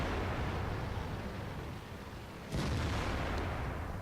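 A tank cannon shot in World of Tanks, fired at an enemy tank's lower plate: a single loud, sharp boom at about two and a half seconds, breaking into a steady low rumble of engine and battlefield noise.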